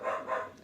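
A dog barks indoors, two or three quick, fairly loud yips in close succession that end abruptly.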